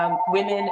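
A phone rings close by in a short burst of steady electronic ringtone tones, with a voice briefly speaking over it.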